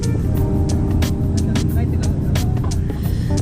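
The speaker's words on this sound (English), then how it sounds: "so this Subi right here was drifting" A Subaru with its front axle removed drifts around a small skid pad at a Tsukuba Circuit gymkhana drift event, its engine droning steadily and loudly with sharp bursts throughout.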